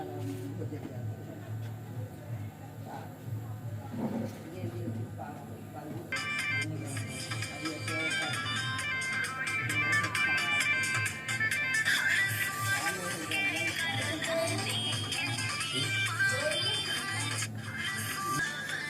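A song plays through the speaker of a Vivo Y95 phone after a ringer sound repair, music that grows fuller and louder partway through and continues steadily, with someone talking over it.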